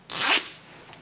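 A single quick zip opens a pouch on a LOL Surprise doll toy package, loud and close, about a third of a second long, then a faint rustle.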